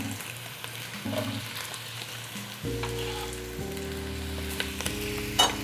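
Pork frying in a pan, a continuous close crackling sizzle with brief low humming tones underneath, steady throughout.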